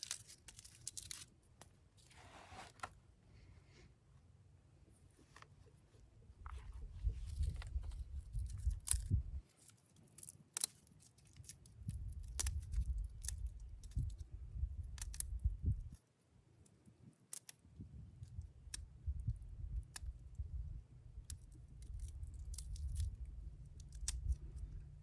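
Papery skin being peeled off elephant garlic cloves by hand, close and faint, with dry crinkling, tearing and crackling in irregular bursts over about twenty-five seconds.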